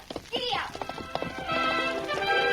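Horse hooves clip-clop at a quick galloping rhythm as a sound effect in an old Lone Ranger radio drama, close and crisp, with a voice calling out over them.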